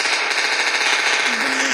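Gunfire in the video game Melon Playground crackles as a dense, loud, continuous burst of rapid shots, filling the whole moment.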